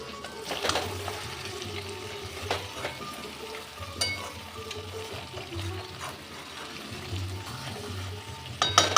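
Mutton fries in oil with a pinch of sugar in a Bengali kosha, giving a soft, steady sizzle and bubble with occasional scrapes of a spoon, close and moderate in level, without talk.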